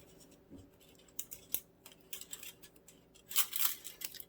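Knife cutting a piece off a keto coconut cream bar, heard as faint scraping and crisp cutting scratches, brief and close, in several small bursts toward the end.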